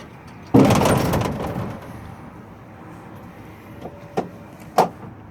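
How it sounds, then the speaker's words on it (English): A school bus hood slams shut during a pre-trip inspection, one loud close thud with a rattling tail that fades, followed by a few faint clicks. "we're going to shut the hood now."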